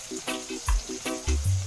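Garlic and onion sautéing in a pan for chicken tinola: soft, continuous sizzling with scraping stirs and occasional low clunks, close and fairly quiet.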